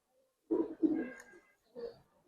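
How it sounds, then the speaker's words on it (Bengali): Young Giribaz and coloured pigeons give two soft, close coos followed by a third brief coo after a short pause, against an otherwise quiet background. "সম্পূর্ণ ইয়াং কবুতর ভাই"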